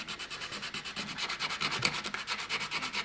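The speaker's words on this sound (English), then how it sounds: "So that's the sandpaper doing that." Sandpaper rubs rhythmically over carved wood, a close, soft, scratchy swish repeating in quick even strokes with no talk.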